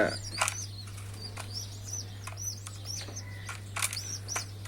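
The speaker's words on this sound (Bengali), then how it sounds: "এভাবে পর্যায়ক্রমে কবুতর তার বাচ্চাদের খাবার খাইয়ে থাকে" Pigeon wings flapping in quick bursts while the bird feeds its chicks, with short chirps and tweets scattered between, close and fairly quiet over a steady low electrical hum.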